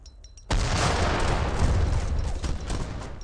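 A Great Bombard cannon fires in the video game Age of Empires 3, a sudden loud blast followed by a dense, rumbling barrage of battle gunfire that carries on to the end.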